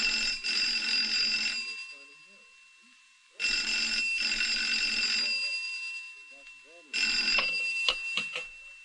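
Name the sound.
telephone ringing sound effect in radio drama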